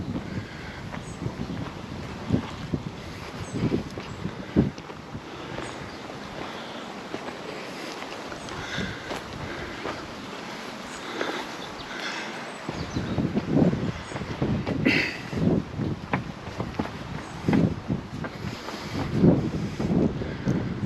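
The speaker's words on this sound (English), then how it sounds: "bit breezy now" Breeze gusts outdoors at Els Calderers in Mallorca, a continuous buffeting rush with low rumbling surges that swell and fade, loud and close on the microphone.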